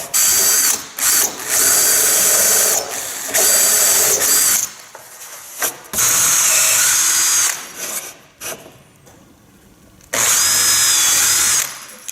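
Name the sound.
power drill with countersink bit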